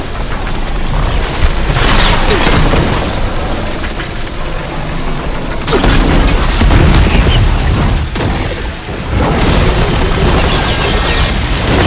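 A loud, dense blast of booming explosions and rumbling debris fills the PS5 game Horizon Forbidden West, sustained and overwhelming with crackling layers throughout.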